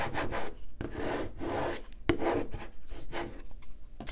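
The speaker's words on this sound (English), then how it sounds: "I'll use the squeegee to burnish or rub the transfer tape onto the vinyl" A squeegee rubs back and forth over transfer tape on cut vinyl, producing close, scratchy strokes in an uneven rhythm of several passes.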